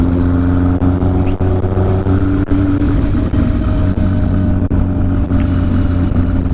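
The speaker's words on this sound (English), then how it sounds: "By riding it in different gears, it's a way of varying your RPMs" An XS1100 cafe racer motorcycle fitted with a big bore kit and performance head runs loud and close, its engine droning steadily with small dips as it moves through the gears, and no voices.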